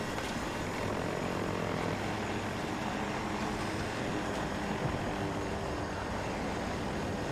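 A jet aircraft in the shooter game Battlefield 2042 roars overhead, a continuous loud engine rumble holding steady for several seconds with no speech.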